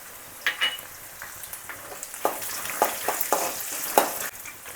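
Dry red chillies crackle and sizzle in hot tempering oil for spiced puri, with a string of sharp spits and pops over a soft steady fry, close by and with no talk.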